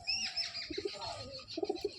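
Ice-quality Madras pigeons make a few soft coos and short chirps, with a light flutter of wings, faint and close in a quiet setting.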